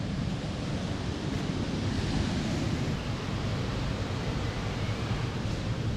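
Strong monsoon-season water current rushing beside a temple near Dhanbad, a steady, dense roar that stays loud and unbroken throughout with no voices.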